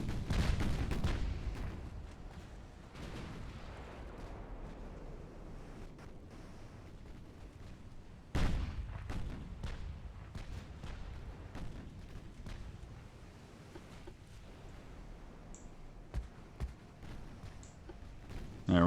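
Heavy warship guns boom repeatedly in an 1899 Britain versus France naval battle in Ultimate Admiral: Dreadnoughts, with a loud opening salvo, another sharp blast midway and scattered distant shots over a rumbling sea-like background.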